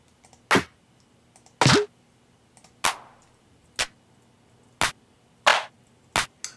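Electronic clap drum samples previewed in Reason 6.5 play one at a time as about eight sharp, separate hits with short tails. They are spaced irregularly over near silence, some dry and snappy, one with a trailing noisy wash.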